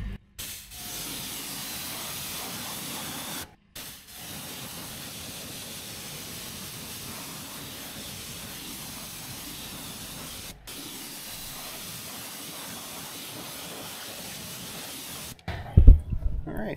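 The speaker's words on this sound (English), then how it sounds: "So, spray this off." A pressure washer or hose sprays water steadily to rinse cleaner off a battered car wheel, a continuous close hiss broken by a few short pauses and then a brief clatter at the end.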